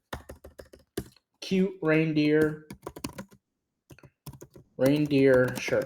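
Rapid, close clicking of computer keyboard keys in bursts, interleaved with someone speaking between and over the typing.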